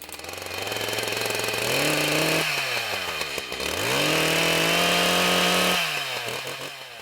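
A chainsaw roars loudly up close, revving up and down repeatedly with shifting pitch as it cuts through a walnut log during tree harvesting, with no voices.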